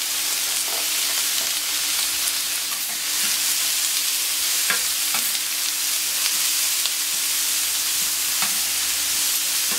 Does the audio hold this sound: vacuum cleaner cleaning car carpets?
no